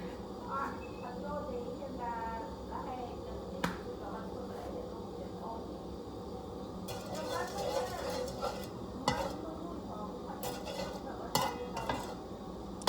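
Kitchen clatter of a frying pan set on a stove and utensils, with light scraping and soft sizzling as oil is added, under steady background noise; a few sharper clinks stand out.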